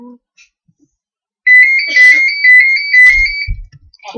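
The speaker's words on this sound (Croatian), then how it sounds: "Zvoni mi telefon" A mobile phone ringtone rings loudly and alone for about two seconds with a steady repeating electronic melody, and a brief low thump follows near the end.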